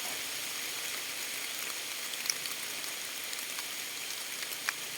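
Steady rain falls outdoors in the countryside as a dense, even hiss, with a few sharper drops landing close by and no voices.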